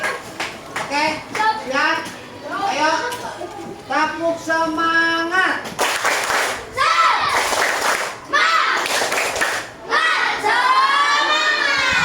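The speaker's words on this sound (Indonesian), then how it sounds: "kita tepuk semangat semuanya berdiri" A classroom of students stands and performs a rhythmic clapping cheer, with bursts of claps mixed with loud chanting and shouting children's voices, lively and close throughout.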